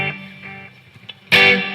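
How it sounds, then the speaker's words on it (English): Electric guitar, a surf green Squier Telecaster, played through a Quattro delay pedal: a sustained distorted tone fades with faint repeats, then a bright, loud strummed chord bursts in and rings out near the end. "Next I've got a delay, the Quattro delay."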